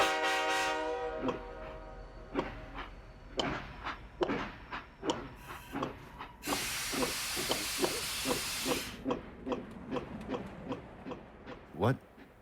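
A steam train effect chuffs in rhythmic bursts that speed up, joined by a long loud hiss of steam in the middle and a whistle-like tone at the start, with voices underneath.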